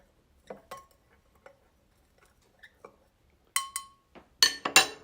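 A spoon clinks against a cup while hot milk is stirred into a cacao peppermint hot chocolate, giving a few faint, sparse taps at first and then a quick cluster of brighter, louder clinks near the end, with no talking.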